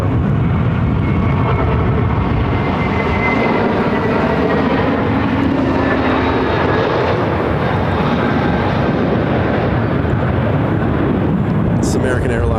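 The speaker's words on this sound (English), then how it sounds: "This is American Airlines flight 1685 arriving from Dallas on an A321-200." An American Airlines Airbus A321-200 arrives at Phoenix Sky Harbor from Dallas, a loud, continuous jet engine roar with wind buffeting that lasts the whole time.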